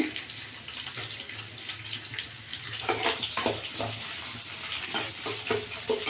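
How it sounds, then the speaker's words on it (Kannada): Dried red chillies and curry leaves fry in hot oil with a constant sizzle, while a spoon stirs and scrapes the pan in short strokes that grow busier toward the end. Nobody speaks. "ಒಣಮೆಣ್ಸಿನ್ಕಾಯಿ ಕರಿಬೇವು ಇದೆಲ್ಲ ಎಣ್ಣೆನಲ್ಲಿ ಸ್ವಲ್ಪ ಚೆಂದ ಫ್ರೈ ಆಗಲಿ"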